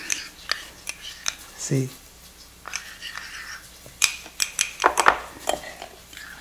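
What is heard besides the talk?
stirring sugar in a pot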